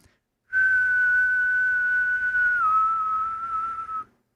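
A person whistles a single long, steady note to imitate a coworker who whistled at work, loud and clear with a slight dip in pitch partway through, alone for about three and a half seconds.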